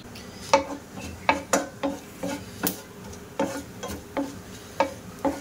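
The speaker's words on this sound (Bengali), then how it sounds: "দুটো আমি শুকনো লঙ্কার ফোড়ন দিয়ে দেব, আর একটু জিরা" Dried red chilli and cumin tempering in mustard oil, heard as a steady soft crackling fry punctuated by regular scraping taps of a spatula on the pan, close and fairly quiet, with no talk.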